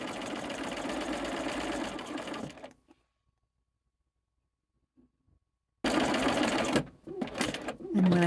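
Sewing machine stitching quilt fabric strips, a rapid mechanical chatter in two bursts separated by about three seconds of silence, close and clear.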